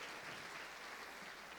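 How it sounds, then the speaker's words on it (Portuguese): A church congregation applauding during a sermon, a steady, even wash of clapping from many hands, fairly distant and uniform with no voices over it. "Dê um aplauso ao Senhor."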